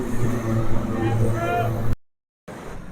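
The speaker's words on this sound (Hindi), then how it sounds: "ट्रैफिक का शोर बहुत ज़्यादा है इस वक्त" Street traffic near the Lahore Orange Line train station forms a continuous loud rumble of engines, cut briefly by a short gap of silence. A voice talks over the noise.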